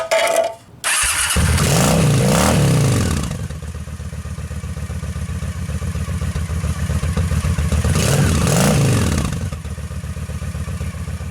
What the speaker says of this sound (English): She starts so much faster, so much easier now